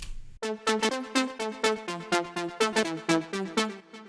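A bright slap house melody of a basic synth layered with a filtered saw wave, with delay and reverb, plays in steady, evenly spaced notes, with a soft low pad underneath and no voices.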